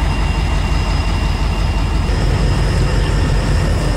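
Norfolk freight train locomotives rolling past, a steady heavy rumble of diesel engines and rail noise, loud and continuous with a faint high whine, no voices.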